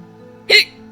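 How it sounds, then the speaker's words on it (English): A single sharp hiccup from a person breaks a quiet moment, one short loud catch of breath at close range. "I have hiccups."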